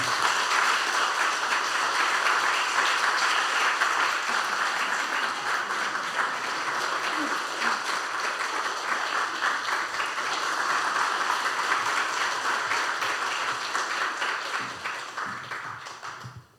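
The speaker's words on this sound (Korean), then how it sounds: "우리 축하하는 마음을 담아 큰 박수로 격려해 주시기" Sustained applause from a church congregation honoring a deacon's retirement plaque at a 45th-anniversary thanksgiving service, steady and full for about sixteen seconds before tapering off.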